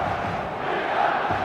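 A dense stadium crowd roars steadily in an eFootball 2026 match, a continuous wash of cheering voices without a break.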